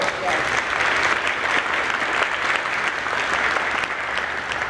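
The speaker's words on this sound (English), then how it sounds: "Big round of applause." An audience at a YMCA luncheon and ribbon-cutting ceremony gives a big round of applause, dense and steady clapping from many people that holds at a constant level.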